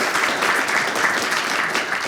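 Audience applause at an Estonian panel discussion on wind farms, a steady dense clapping from a crowd that fills the whole moment at full strength, with no voices over it.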